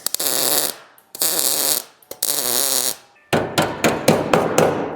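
Hammering a metal panel flat on a VW race car hood: three long, loud bursts of harsh noise, then a rapid run of sharp, ringing hammer blows close by, about six strikes in quick succession.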